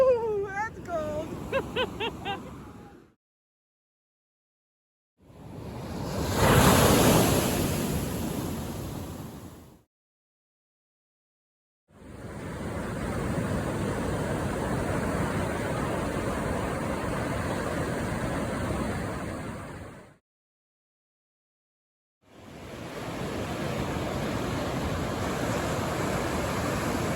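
Ocean waves and surf breaking on the West Coast shoreline, heard in several long rushing bursts separated by silent gaps, loud and close.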